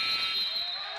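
A loud, sustained electronic horn marks the end of a period at a high school basketball showcase game, holding one steady blaring tone with the roar of the gym crowd beneath it.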